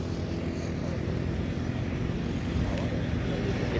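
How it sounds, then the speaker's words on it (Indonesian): An agricultural spraying drone flies over a rice field, applying about 10 liters of spray, its steady broadband motor and propeller drone running loud and continuous throughout with no clear pauses. "dengan penyemprotan kurang lebih 10 liter ini kurang lebih 15 menit dengan menggunakan drone"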